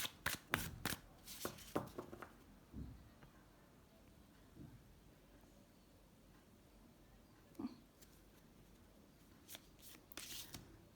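Tarot cards are shuffled quietly nearby, with a cluster of crisp riffles at the start, a long soft lull with faint handling, and a few more quick flicks at the end.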